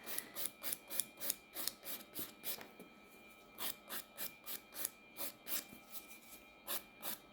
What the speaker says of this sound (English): I'm tilting my nail file a little bit so that I'm very precise with where I'm filing